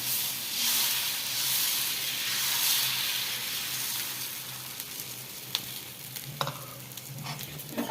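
Cucumber dosa batter fries in oil on a hot pan, producing a broad, steady hiss that eases slightly over time, with a few light scraping taps near the end and no speech.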